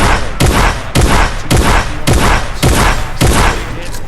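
Loud gunshots in Fortnite, seven evenly spaced heavy blasts about half a second apart, each with a sharp attack and a short ringing tail, close and alone.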